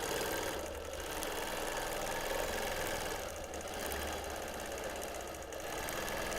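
A sewing machine runs steadily for free-motion quilting, its needle tapping in a fast, continuous mechanical rhythm at close range, loud and uninterrupted.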